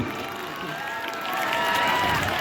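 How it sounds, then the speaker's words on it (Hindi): Schoolchildren and audience members clap continuously at a school Children's Day celebration, a dense crowd rustle of applause that swells louder halfway through, mixed with general hall noise and faint tonal sounds. "तालियां बजाती रहो, तालियां बजाते रहो"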